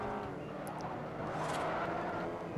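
A muscle car engine in the racing game Forza Horizon drones steadily and loudly, a low throaty rumble with gear and rev shifts, continuous throughout with no voices.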